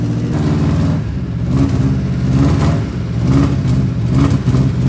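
An engine cranks and churns loudly and steadily up close without catching, a continuous low rumble with a slight rise and fall.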